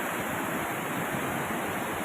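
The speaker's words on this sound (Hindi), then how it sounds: "ये है वो चौंड नाला" The Chaund stream in a disaster-hit Himachal village, a steady broadband rush of flowing water, constant and fairly loud with no talk over it.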